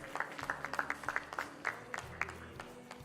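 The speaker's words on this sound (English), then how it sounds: "Let's have a big round of applause for them once again." Sparse, scattered audience clapping at an award ceremony during a conclave, individual claps spaced irregularly and moderately distant, with low hum in the background and no one speaking.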